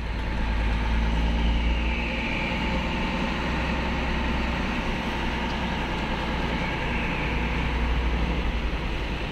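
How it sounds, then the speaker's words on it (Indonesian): Steady engine rumble from a convoy of four cars on the move, a continuous low drone heard from close by, constant in level with no breaks and no voices. "Ini konvoy 4 mobil bro ya, cuman si Henda di depan dia."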